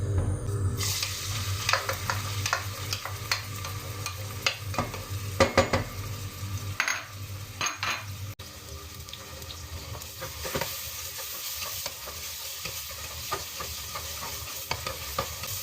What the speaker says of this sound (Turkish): Soğanlarımı tencereye alacağım.